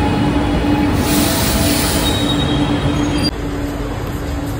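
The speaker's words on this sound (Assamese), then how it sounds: "এয়া আমি আমাৰ মেট্ৰ'খন আহিল।" A Chennai metro train pulls into the station with a loud, close, steady rumble and a thin wheel squeal, then drops abruptly to a quieter hum as it comes to a stop.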